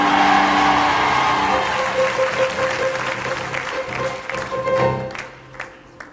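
A church congregation cheers and applauds during a French sermon, a loud sustained wash of clapping and crowd noise that thins out toward the end.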